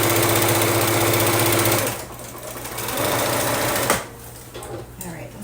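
A sewing machine runs steadily while stitching a quilt block, its motor hum loud and continuous for nearly two seconds, then easing into slower, quieter stitching with a sharp click midway through.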